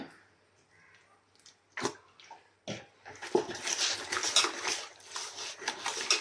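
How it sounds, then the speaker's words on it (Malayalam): Sunflower oil is poured into a pan while cooking alfaham chicken at home, a faint close trickle followed by soft clinks and sizzling splutter that grows over several seconds, with no voices. "കുറച്ച് നമുക്ക് സൺഫ്ലവർ ഓയിൽ ഒഴിച്ചു കൊടുക്കാവേ"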